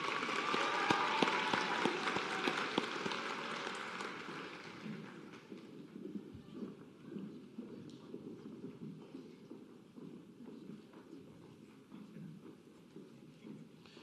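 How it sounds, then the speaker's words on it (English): Applause for a graduating group of nursing students at a college white coat ceremony, dense and loud at first, then thinning into scattered, fading clapping. "Another round of applause for this group."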